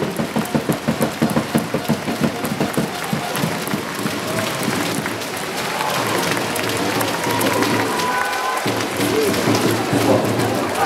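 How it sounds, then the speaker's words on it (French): A French audience gives a warm ovation, starting with distinct rhythmic clapping that swells into a dense, rain-like wash of applause lasting throughout. "un maximum d'applaudissements pour Monsieur de la Rue"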